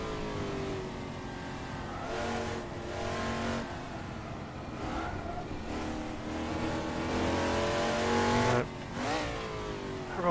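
Race car engine of a Daytona Cobra in the Assetto Corsa racing game at a virtual Goodwood Revival, roaring loud and steady with repeated revving rises and gear-change dips, a brief sharp drop near the end.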